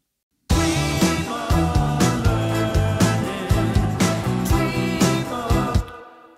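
Full song mix with a specialized exciter effect applied, dense and bright with a steady beat and punchy rhythmic hits, playing loudly without talk until it cuts off near the end.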